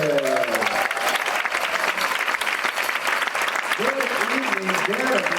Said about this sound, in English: Please give a warm round of applause for Mr. Derek Martin.